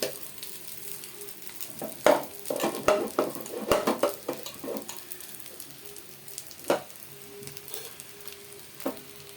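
Eggs and rice frying in a pan with curry leaves and chili powder, a soft sizzle under repeated scraping and stirring knocks of a spatula against the pan, no talk.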